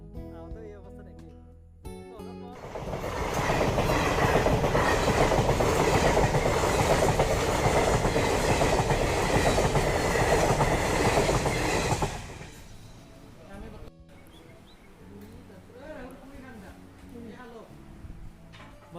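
A moving train carries passengers, with loud, close rumbling and rhythmic clickety-clack that swells for several seconds before dropping to a quieter rolling hum, while people talk.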